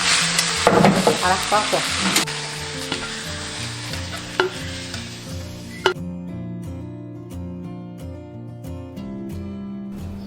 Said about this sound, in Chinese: 最后倒入蒜苗，再炒个30秒就可以了。